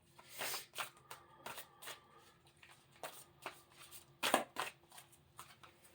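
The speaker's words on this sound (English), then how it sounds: "we're gonna start with the mediumship training deck today" A mediumship training card deck being shuffled by hand, with repeated bursts of riffling cards at a steady, uneven rhythm, close and fairly quiet, with no talking.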